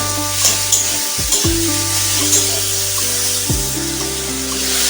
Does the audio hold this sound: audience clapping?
no